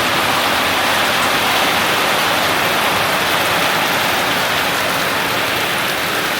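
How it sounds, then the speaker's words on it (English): Heavy tropical rain pours down in Malaysia, a loud, dense, unbroken hiss and patter that holds steady throughout with no voices. "we gotta check out that rain one more time"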